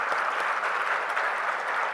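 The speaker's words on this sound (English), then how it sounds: "Give them another huge round of applause." Brief, steady audience applause at an empowerment breakfast event for the panel and speakers, a continuous wash of many hands clapping with no voices.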